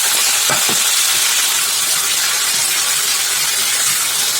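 Steady, close hiss of potatoes sautéing in hot oil with curry leaves for raw mango pachadi, a constant sizzle with a few faint stirring clinks near the start.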